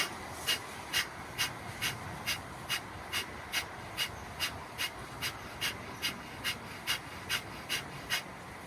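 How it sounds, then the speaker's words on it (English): Twenty or so sharp, forceful Kapalbhati exhalations puff through the nose at a brisk, even rhythm of about two per second, close to the microphone in a quiet room. "That was 20 more repetitions of the Kapalabhati skull shining breath"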